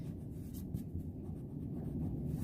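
A pencil line is erased on paper with a soft, close, continuous rubbing scrub that lasts a couple of seconds.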